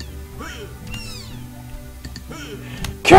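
A cat in the dungeon-crawler game Dungeons of Dredmor gives a few rising and falling meows over background game sounds, ending with a sudden loud noisy burst.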